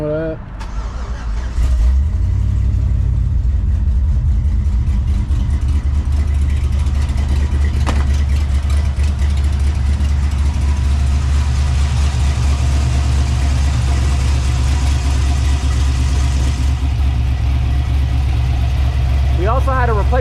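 A Dodge Dakota engine cranks briefly, catches, and then settles into a loud, steady, close idle that rumbles on to the end.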